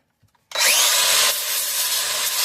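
Wood is sanded with coarse 40 grit sandpaper, probably by a power sander, in a loud, steady abrasive rush that starts abruptly after a brief quiet moment. It continues evenly with a slight drop in intensity partway through.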